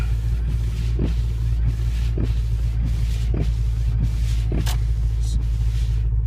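Car engine idling after a cold start at 7 degrees F in snow, a steady low rumble carrying a light rattle, with periodic ticking bursts repeating about every second.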